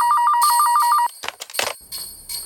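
Loud, close electronic phone ringing with a quick warbling pulse that repeats evenly for about a second, then stops abruptly, giving way to scattered clatter and bright noise bursts.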